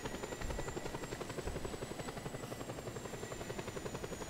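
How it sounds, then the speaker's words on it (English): Rotor blades of a Just Cause 2 helicopter chop rapidly and evenly over a constant engine whine, sounding close and sustained with no voices. "There's a regular helicopter too."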